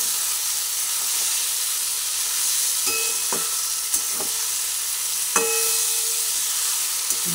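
Green chillies stirred into a frying capsicum and eggplant curry in a pan, giving a steady loud sizzle with a few scraping clinks of the spatula.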